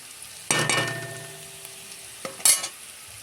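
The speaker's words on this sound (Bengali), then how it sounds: "তো পেঁয়াজটা ভাজা প্রায় হয়ে আসছে।" Onions frying in a pan for a home-style vegetable dish, heard as two short bursts of stirring and sizzling with quiet pauses between, close and fairly loud.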